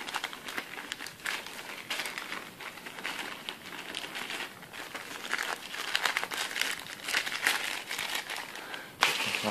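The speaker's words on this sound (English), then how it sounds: "Wrap it in bubble wrap." A plastic bag and bubble wrap crinkle continuously as they are folded around a computer processor, with dense close rustling and crackling that rises and falls for several seconds.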